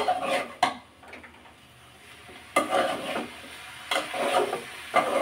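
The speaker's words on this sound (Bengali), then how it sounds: "এইদিকে শিম আর আলুগুলোকে আমি সুন্দর করে মশলার সাথে কষিয়ে নিব।" Beans and potatoes fry with spices in a pan beneath a soft, constant sizzle, broken by a few sharp scraping strokes of a stirring utensil against the pan, heard close with no talking.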